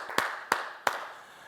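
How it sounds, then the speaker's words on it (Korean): A church congregation claps during a Korean worship service: three sharp, evenly spaced hand claps ring out close and fairly loud, each trailing into room echo, with no talking. "박수로 하나님께 영광 돌리겠습니다"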